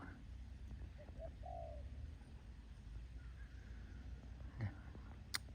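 A soft dove coo sounds once in the middle distance over a low outdoor rumble, with faint bird chirps and a brief thump near the end.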